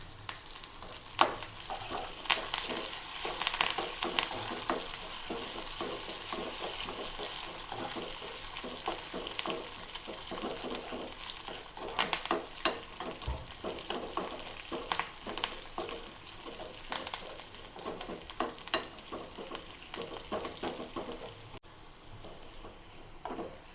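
Dried red chilies and curry leaves sizzle in hot oil as a tempering for a tapioca dish, a steady close crackling fry with occasional stirring scrapes running without a break.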